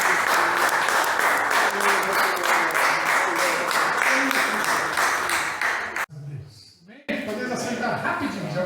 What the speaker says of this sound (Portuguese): Agora eu gostaria que os irmãos aplaudissem ao Senhor.